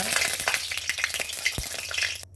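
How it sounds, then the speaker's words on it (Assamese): Oil for a local pork recipe sizzles and crackles busily in a pan while being stirred, with rapid close spatters and a few scraping knocks. "তেলখিনি অলপ লাৰি দিছোঁ বন্ধুসকল, অলপ লাৰি ফেৰফেৰাই উঠি"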